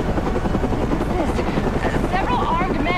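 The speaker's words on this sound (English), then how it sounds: "now it appears the Batman has been blown from the building by the blast and is somehow hanging from the bottom of our helicopter" A news helicopter in the Batman: Arkham Asylum video game chops steadily and loudly overhead, its rotor drone continuous while a voice speaks over it.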